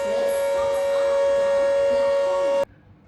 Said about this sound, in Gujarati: વડોદરા રેલવે સ્ટેશન પર સાયરન ગુંજી ઉઠ્યું